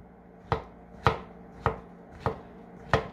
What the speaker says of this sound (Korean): 표고버섯 그냥 먹기 좋은 크기로 이렇게 썰어 주시면 되죠